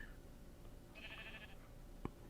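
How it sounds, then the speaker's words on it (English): A sheep bleats in the video game Minecraft, a single short nasal call heard faintly over a quiet background, followed by a soft click. "There's a sheep in a boat in the middle of Patronville Lake."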